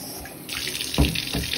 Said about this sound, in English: I'm just gonna water them like this from the tap